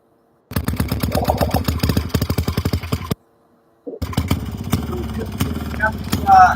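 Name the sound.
bike with Maytag engine running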